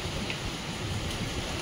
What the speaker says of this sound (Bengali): দেখো খুব জোরে বৃষ্টি হচ্ছে